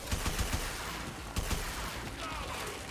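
Gunshots in the video game Warframe, a quick cluster of loud sharp shots followed by a second short burst amid constant dense combat noise.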